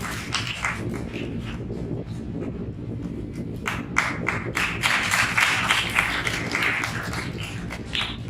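Audience applause at a Ramcharitmanas singing competition for Tulsidas Jayanti: sustained clapping from a crowd indoors, swelling in the middle, with dense overlapping claps and no talking over it.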